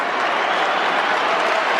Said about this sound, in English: Dave Mundy with the applause of the Fremantle fans ringing in his ears